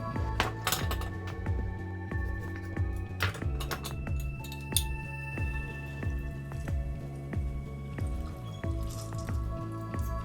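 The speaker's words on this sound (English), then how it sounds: "We're gonna put in 2 bar spoons of ultrafine sugar." Metal bar spoon clinks against glassware while ultrafine sugar goes in for a daiquiri, a run of close, bright taps and chinks over a low steady hum.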